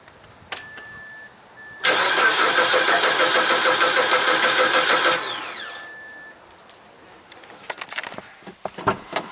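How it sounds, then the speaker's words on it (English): The engine of a 2003 Mazda Protege with a misfire at idle rises to a loud, sustained rev at wide open throttle for a few seconds, then winds back down to idle, with a faint tone and clicks around it. "wide open throttle"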